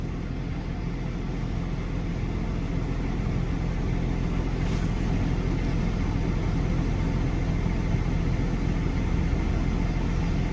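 A six-wheel-drive tractor engine drones steadily nearby, a constant low rumble that runs unbroken for about ten seconds without talk.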